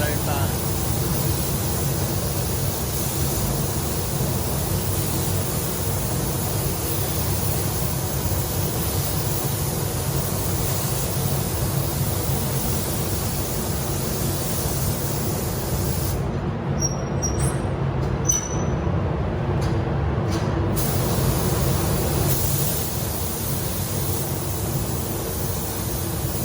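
Steady, loud hiss of spray guns painting a Peterbilt big rig truck, continuous broadband spray noise with a brief gap in the upper hiss partway through, no talk over it.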